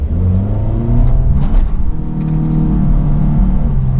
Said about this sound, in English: It sounds like a CVT.